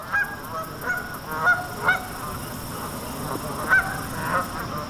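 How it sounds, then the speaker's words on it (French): Canada geese honk repeatedly in a park in Cologne, a run of loud nasal calls rising over steady outdoor background noise. "il y a des oies partout"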